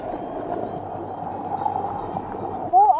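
A Yamaha Superjet or Kawasaki SX-R 1500 jet ski idles while floating on water, giving a steady low engine drone with light water sounds, and a brief voice rises near the end.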